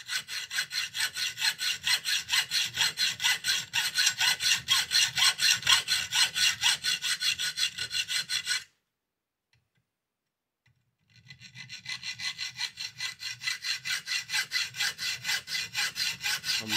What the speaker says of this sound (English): So I'm just going to run a hacksaw down there.